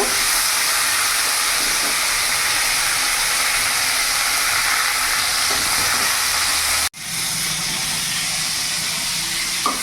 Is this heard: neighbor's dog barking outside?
no